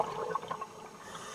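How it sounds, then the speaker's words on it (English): Air escaping from divers in the flooded holds of the SS Thistlegorm shipwreck in the Red Sea, streaming up as bubbles underwater, gives a steady watery bubbling and gurgling wash that stays fairly faint throughout. "trapped air from the divers in the holds below escaped in streams of silver bubbles"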